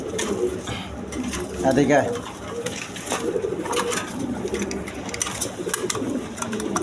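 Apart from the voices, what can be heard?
colored Rajgola pigeons cooing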